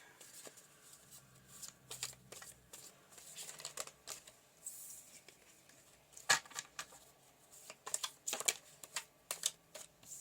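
Tarot cards being shuffled and pulled from a deck, quiet close riffling and flicking in scattered bursts, with soft papery snaps standing out in the second half.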